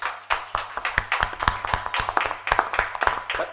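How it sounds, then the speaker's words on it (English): A small audience claps for panel presenters at a crypto conference breakout session, a close, crisp patter of individual hand claps at a steady, lively pace, no talking over it. "Can we have a final hand clap for the presenters?"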